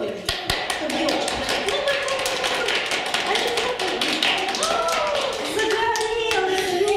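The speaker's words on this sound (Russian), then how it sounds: "Давайте похлопаем, чтобы елочка." Children clap rapidly and steadily at a kindergarten New Year party, urging the New Year tree to light up, with voices and background sound mixed in throughout.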